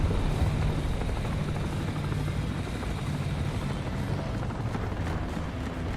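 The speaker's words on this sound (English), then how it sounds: "Helicopter." A helicopter in War Thunder passes with a dense, steady rotor drone and rumble, loud and continuous with no talk over it.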